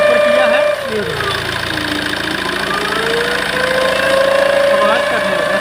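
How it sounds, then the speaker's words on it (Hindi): A Tata Safari Storme engine with a faulty turbo runs close by with a steady knocking idle and a whistling tone that dips and rises as the revs shift, under intermittent talk. "इसका मतलब इसका जो टर्बो है उसी में कोई दिक्कत है।"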